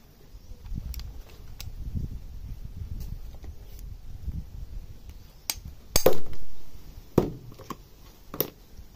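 Metal striking a grass cutter head gearbox as it is knocked apart, a series of sharp, irregular clanks and taps, one loud ringing blow standing out among quieter knocks, with low background rumble.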